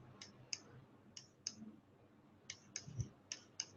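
Computer mouse clicks on a panorama viewer, a series of sharp, light clicks in irregular clusters, close and fairly quiet with no talk.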